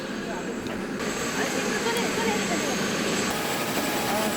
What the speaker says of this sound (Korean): 구조용 헬기를 빌려 타고 카트만두 공항을 떠날 수 있었다.